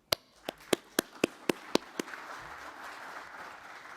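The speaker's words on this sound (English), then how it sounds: "Let's give him another round of applause." A few sharp, separate hand claps ring out close by at a scientific conference forum session, about eight evenly spaced strikes. They then give way to a soft, sparse patter from the room that trails off quietly.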